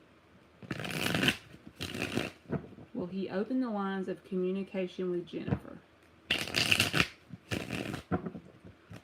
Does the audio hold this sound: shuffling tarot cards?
yes